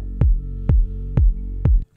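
Deep house breakdown: four evenly spaced kick hits with a deep bass tail under a sustained pad, loud and close with no talking.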